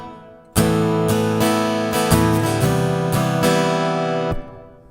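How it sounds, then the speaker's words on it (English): Acoustic guitar strums through an FX8 hall reverb ring out spaciously, several chords played alone before the last one is cut and its echo tails off. "And I'm also using a hall reverb,"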